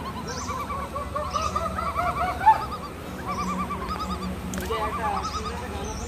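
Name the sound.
birds calling in a forest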